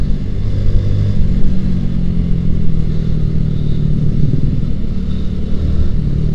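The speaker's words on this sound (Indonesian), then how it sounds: "Mana kendaraan lagi rame pula." Busy two-lane trunk road traffic with motorcycles and cars streaming past, a dense continuous roar of engines and tyre noise, loud and close with no talking.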